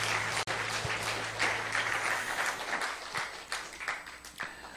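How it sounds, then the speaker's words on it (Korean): A church retreat congregation claps together for a few seconds as worship, a full, even patter of many hands that holds steady at moderate loudness with slight swells. "우리 그분께 한 번 더 박수로 영광을 올려드리십시다."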